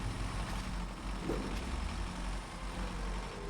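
Heavy truck in SnowRunner (Search & Recover DLC) rumbling steadily with a low, constant engine drone and a faint mechanical creak partway through, no voices over it.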